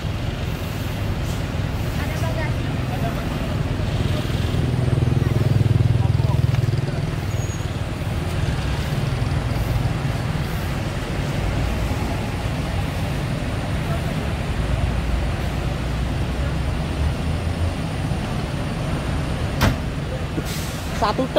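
A Rosalia Indah bus pulls out of Maospati terminal in Magetan, its engine a steady low drone that swells briefly early on, with a sharp knock near the end and a voice speaking under the rumble.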